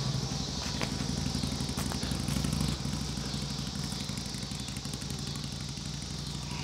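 A motorcycle runs near a disc golf course, its engine holding a steady, fairly constant rumble with a rattly edge and no clear revving.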